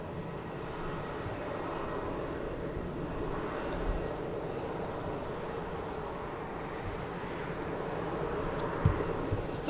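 An airplane landing on runway 20 at Lisbon Airport, a distant steady jet engine roar that holds evenly for about ten seconds with a slight swell at the end.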